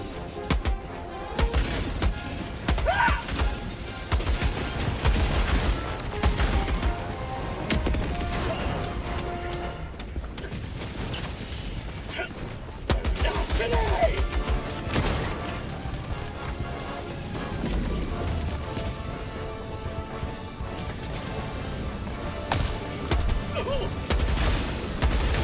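Game artillery or napalm strike explosions rumble in repeated heavy bursts amid constant crackling gunfire, with a voice talking over the dense battle noise.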